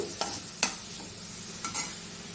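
Spoon scraping through a potato stuffing mixture with turmeric in a pan, a few distinct stirring strokes over a soft, steady sizzle, close and fairly quiet.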